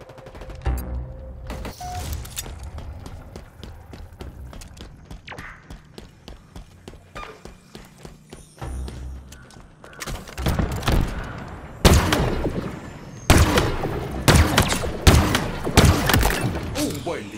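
Gunfire in the Halo video game: sharp bursts and single shots, with heavy impacts and explosions growing louder and denser in the second half, mixed with game effects and a voice over the action.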